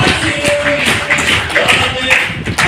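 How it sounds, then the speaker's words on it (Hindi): Seminar audience in Nalasopara claps loudly for the doctors: close, vigorous, continuous clapping from a crowd, dense and steady with occasional sharper individual claps. "डॉक्टर, एक बार जोरदार ताली डॉक्टर के लिए।"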